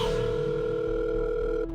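A steady telephone dial tone hums for nearly two seconds while a call goes unanswered, then shifts pitch slightly just before the end, with no voices.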